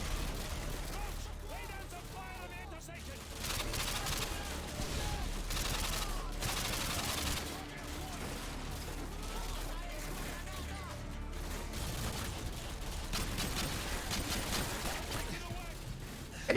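Gunfire from the Modern Warfare 2 campaign on Veteran difficulty, a dense run of shots and bursts that rolls on almost without pause over a busy game soundscape, with a voice talking now and then.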